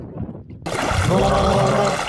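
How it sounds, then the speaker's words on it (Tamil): After a moment of near silence, water suddenly rushes and gurgles with bubbling, loud and close, as someone holds their breath underwater. "தண்ணிக்குள்ள தம்மு பிடிக்கும் போது சவுண்டா"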